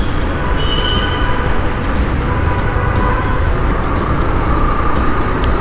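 A Dhaka metro train pulls in, a loud continuous rumble and rolling rush with faint metallic squeal, heard up close from a street alongside with traffic noise mixed in.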